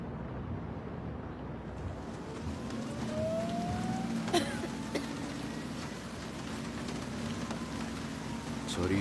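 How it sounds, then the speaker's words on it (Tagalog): Heavy rain falls steadily on a surface as a dense, continuous hiss, with faint background voices murmuring underneath throughout. "Malakas ang ulan at madulas ang kalsada."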